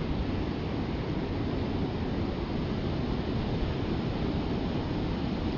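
Steady broadband roar of Indian Ocean surf breaking below overhanging cliffs, mixed with strong wind buffeting the microphone, continuous and loud without a break.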